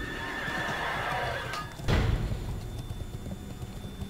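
A horse whinnies in the video game World of Warcraft, a clear neigh followed by hoof clip-clops and a heavy thud, fairly close over faint game ambience.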